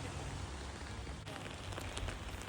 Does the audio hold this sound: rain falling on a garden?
yes